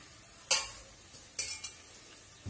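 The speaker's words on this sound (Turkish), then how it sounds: "ve 15 dakika kavuruyorum karıştırıp" Beans and tomatoes being stirred and sautéed in a pan, with a few distinct scraping stir strokes over a low sizzle, close and moderately loud.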